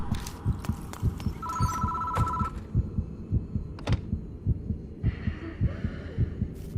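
In the horror game Death Mark, a telephone rings in a short electronic trill over a loud, steady heartbeat-like throbbing pulse, with eerie tones and a brief sharp noise following.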